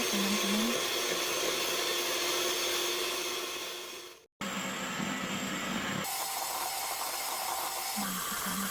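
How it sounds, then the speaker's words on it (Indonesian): An electric mixer beats nastar cookie dough at high speed, producing a loud, continuous whirring drone that cuts out briefly and then resumes with a slightly changed pitch. "dengan kecepatan tinggi kita mixer. Nanti kita mixernya sampai agak mengembang gitu ya teman-teman."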